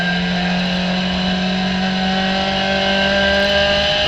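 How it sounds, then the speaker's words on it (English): A COMMA SRF3 race car accelerating hard on the Hallett Motor Racing Circuit track, a loud, close, sustained engine whine with steady harmonic tones climbing slightly, heard alone from onboard. "Let's get this pedal put to the floor and see if we can't catch this next car up here."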